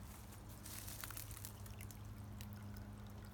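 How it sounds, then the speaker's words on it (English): Spring water pours into a bowl in a steady, close trickle with soft splashing that runs on without a break and no one speaking. "we take our bowl and we fill it with spring water"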